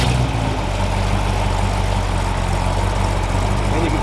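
A Chrysler 318 stroker V8 idling just after being started, a loud, steady low rumble with a constant lumpy throb and no speech.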